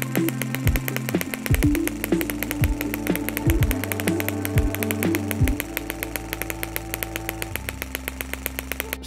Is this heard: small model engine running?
yes